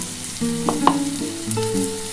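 Small kachki fish frying in a pan as mustard paste is stirred in, with soft sizzling, scraping and stirring clatter and a couple of sharp utensil knocks, close and moderately loud.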